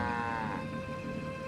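A cow in a Nancy Drew video game lets out a single sustained moo, fairly loud and close, that slides slightly downward in pitch before a quieter tonal background hum.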